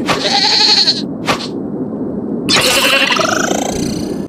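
Goat bleating in a Warrior Cats video game, two loud wavering bleats with a short click between them, close and clear against a quiet background.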